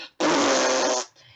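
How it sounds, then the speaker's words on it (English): A single loud, sustained fart lasts nearly a second, close and clear, with no talking over it. "I just saw a fart right here."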